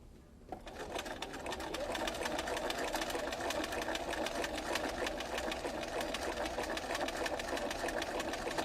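An old-style Bernina sewing machine with a ruler foot stitches steadily, its fast, even needle rhythm close and continuous after a brief start, with no talking.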